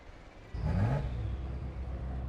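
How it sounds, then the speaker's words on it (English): A Ferrari engine revs up sharply with a rising whine, then settles into a steady loud rumble, heard alone. "And the sound of this Ferrari"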